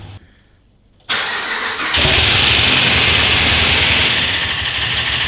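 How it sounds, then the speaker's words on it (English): A Dodge Ram's 5.7L Hemi V8, freshly fitted with new head gaskets, cranks briefly and fires up, settling into a loud, steady, close idle with no talking. "post just a small clip of that engine noise"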